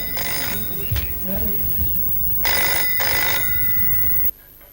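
A telephone rings in repeated bursts with a bright bell-like tone, fairly close, over a steady background hum and some speech.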